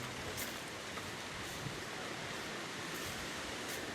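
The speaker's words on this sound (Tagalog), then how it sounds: "Gawa lakas ng alon." Strong waves at a coastal work site, a dense continuous roar of surf filling the background at steady loudness, with no talking.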